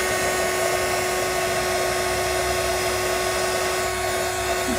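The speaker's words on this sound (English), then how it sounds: "heat gun to the rescue" A heat gun blows hot air over poured paint in a ring pour, a steady loud whooshing drone with a constant motor whine that holds unbroken from start to finish.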